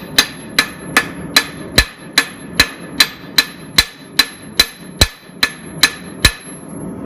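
A hammer pounds the bevel of a hand-forged knife blade, about fifteen sharp, evenly spaced metallic strikes ringing close and loud, with no voices.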